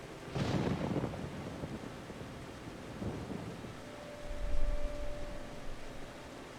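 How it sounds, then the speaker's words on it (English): Rain and thunder in Final Fantasy XIV: a soft steady rain hiss with a low rumble of distant thunder rolling in early and again near the end, faint and unaccompanied by voices. "Gotta keep dry in the rain."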